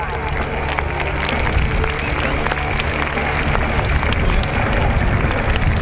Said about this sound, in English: please give a huge round of applause with cheers for the RAF Falcons